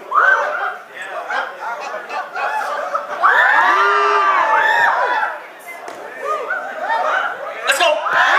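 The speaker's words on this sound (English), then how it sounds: "When I wave by, I just need you to scream as loud as possible." Crowd of children screaming and cheering loudly, shrill shouts swelling and fading in waves with laughter mixed in, close and continuous throughout.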